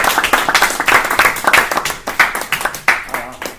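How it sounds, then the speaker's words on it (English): Audience applause at a live event, a burst of close, energetic hand clapping that thins toward the end, with voices speaking over it. "on t'applaudit"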